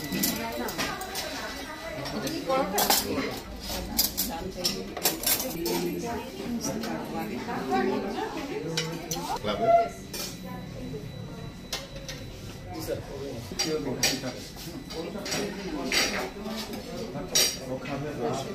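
A spoon clinks and scrapes against a plate during a meal at a birthday gathering, light irregular taps scattered over about eighteen seconds beneath steady conversation from several people nearby.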